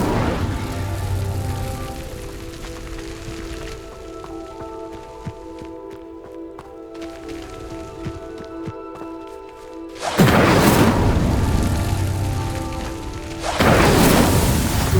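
A fire spell is cast in the Hogwarts Legacy video game, giving loud broadband whooshing bursts at about ten and again near thirteen and a half seconds, over a quieter game backdrop of low tones and soft crackles.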